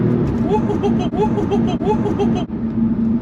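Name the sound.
Audi S3 Quattro car driving and accelerating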